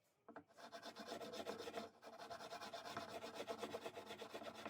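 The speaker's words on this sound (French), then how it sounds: "je fais ça au rabot, petit rabot de paume, ça marche pas mal" A small palm plane shaves a wooden TV cabinet part to even out a slight offset left by a saw blade, making two long, close, raspy strokes separated by a brief pause.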